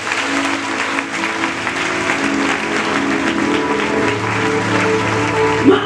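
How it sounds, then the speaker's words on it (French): A church congregation applauds and cheers in praise of the Lord, a loud, dense and continuous wash of clapping that fills the room from start to finish. "Acclamez le Seigneur."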